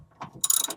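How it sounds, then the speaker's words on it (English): A bolt is tightened on a tablesaw with a wrench, giving a brief ratcheting click sequence, close and fairly crisp, alone and with no talking. "I just got one more bolt to tighten"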